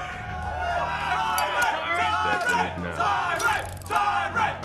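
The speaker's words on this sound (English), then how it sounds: "The crowd obviously picking a favorite the already. Crowd is loving it" An arena crowd at a Mortal Kombat X esports match between Tyrant Jax and Sonic Fox roars and yells loudly, swelling in waves of cheering with a few bellowed shouts, under excited commentary.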